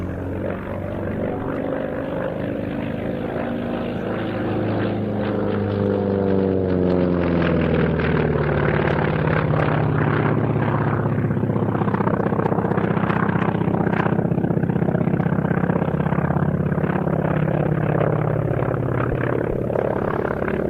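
A Grumman Martlet propeller fighter flies past at an airshow, its radial engine droning loud and steady for about twenty seconds, with a pitch that slides down as it passes and recedes.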